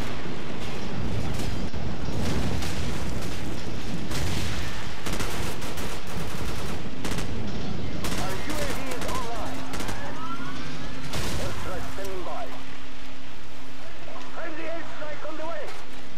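Dense Call of Duty 4 multiplayer combat with rapid gunfire and grenade blasts in quick bursts, loud throughout, with a siren-like wail and a player's voice talking over the action.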